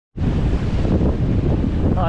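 Strong 25 to 30 knot wind roars loudly and steadily while sailing under a triple-reefed main off southwest Nova Scotia, with broadband rushing gusts and wave wash continuing without a break.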